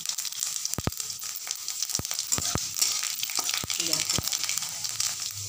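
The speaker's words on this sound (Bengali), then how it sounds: "এবারে তেলে পাঁচফোড়ন দিয়ে দিলাম" Panch phoron spices hit hot oil in a Bengali home kitchen, setting off a bright crackling sizzle punctuated by sharp pops and spits throughout, close and steady.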